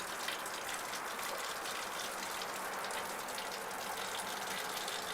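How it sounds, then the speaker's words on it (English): Homebrewed beer wort from an extract brew pours out of a bucket tap into a vessel below as a steady, soft splashing gush that continues evenly throughout. "I'm going to open this up and catch the wort coming out."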